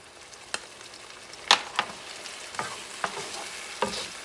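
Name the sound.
stirring pork stew with smoked paprika in pot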